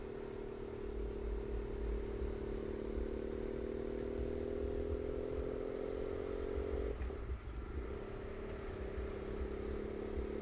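Motorbike riding beside a professional cycling road race in Malaysia, a steady droning engine tone held throughout with a brief dip and shift in pitch near the end, constant wind and road rumble underneath, no talking.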